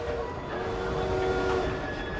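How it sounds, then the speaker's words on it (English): Train in the video game Assassin's Creed Syndicate, a steady rumbling rail noise with faint tonal whistle-like lines, continuous and moderately loud throughout. "The target's getting away on the train."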